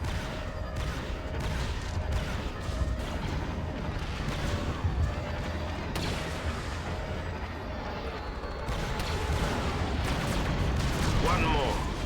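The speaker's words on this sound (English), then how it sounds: "turret guns are pounding our shields" Heavy turret guns pound a ship's shields in the 2005 Star Wars Battlefront 2 video game, a dense, continuous roar of rapid blasts and booms with voices speaking over the barrage.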